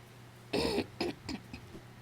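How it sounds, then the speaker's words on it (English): A person clears their throat close to the microphone with one strong rasping burst followed by a few shorter, fading grunts. "I'm so sorry to clear my throat in the microphone."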